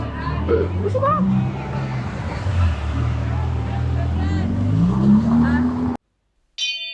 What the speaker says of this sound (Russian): Феррари поехала. Феррари, пацаны.